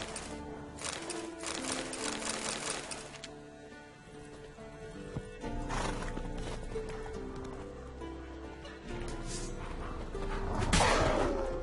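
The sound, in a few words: horse in video game The Witcher 3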